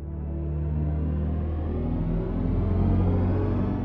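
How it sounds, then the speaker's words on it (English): The synthetic driving sound of a BMW Neue Klasse electric car is a smooth, low humming drone with layered tones that rises gently in pitch and swells slightly, continuous and close, with no talk. "With hypersonics, we do have different driving sounds depending on the experience."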